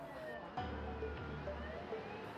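Fire trucks, an aerial ladder truck and an ambulance gather around a nursing hospital in Cheongju for a joint fire drill, giving a steady low engine rumble with faint tonal whines and indistinct voices in the background.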